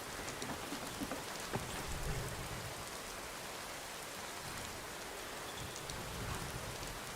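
Steady rain falls in the video game Skyrim, a dense, even hiss of drops on surfaces that holds at a constant level throughout with no voices.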